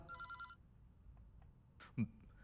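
A phone rings briefly with a high electronic tone at the start, then fades into a quiet room with a soft thump and short clicks.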